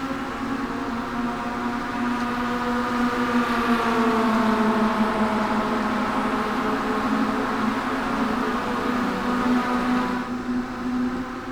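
Mazda MX-5 Global race cars in iRacing at Daytona, a pack of engines droning loudly and steadily at high revs side by side, pitch sliding slowly as they run through turns one and two with no talk.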